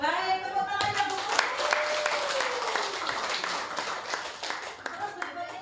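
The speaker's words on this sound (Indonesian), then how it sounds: "Baik, tepuk tangan ya Bu." Applause from a group of teachers at a teacher training session, a steady patter of many hands clapping that runs throughout, with voices talking over it.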